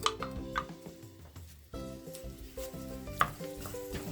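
Onion sautéing in hot oil in a large frying pan, with a steady soft sizzle under repeated clinks and scrapes of a utensil stirring against the pan.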